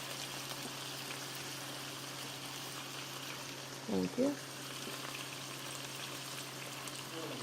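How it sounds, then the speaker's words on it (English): Water poured into a hot pan of browned steak strips sets off a steady, hissing sizzle and bubbling that runs the whole time, fairly quiet and even, with a brief spoken remark in the middle. "Right about now, I'm going to add some water"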